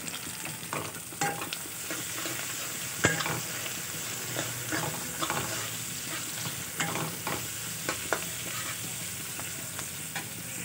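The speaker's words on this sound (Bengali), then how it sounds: "এই যে ঠিক এরকমভাবে লাল লাল করে একটু ভেজে নিতে হবে।" Potato and soybean chunks fry with salt and turmeric in a pan, giving a steady low sizzle broken by scraping stirs and occasional clicks of a spoon, fairly quiet and close, without speech.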